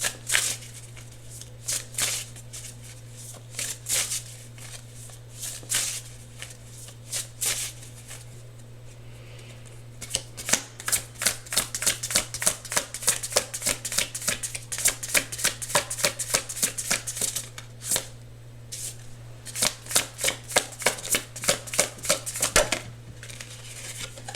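Riffling and snapping of an oracle deck being shuffled by hand, close and crisp, starting as scattered flicks and building into rapid bursts of card shuffles with short pauses, over a low steady hum.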